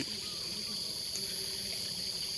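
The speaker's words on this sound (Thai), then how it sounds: "น้ำไหลจักจักจักจัก" Water flows and trickles steadily outdoors, a constant soft babbling stream with high insect-like buzzing over it, no voices.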